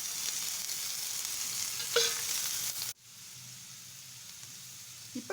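Vegetables with cabbage stir-fried in oil in a pan for veg Schezwan noodles, a steady close sizzle with stirring scrapes, briefly broken by a sharp cut, then quieter frying with a few faint clinks.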